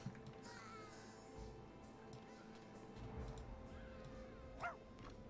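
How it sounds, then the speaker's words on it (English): Stray dog named Duke in The Sims 2, giving a few soft, game-style barks and yips that sit low under steady background music and ambient game sounds, with a brief louder yelp near the end. "Oh, we've got another stray dog named Duke."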